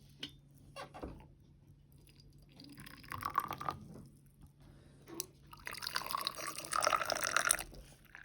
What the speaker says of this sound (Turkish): Çayları dolduralım dedik